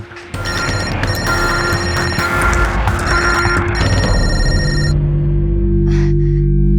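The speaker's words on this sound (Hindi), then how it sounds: "ये फोन भी ना कब से" Repeated electronic telephone ringing in a Hindi TV serial scene, bright tonal bursts pulsing steadily over a loud music bed, then stopping near the end with no voices.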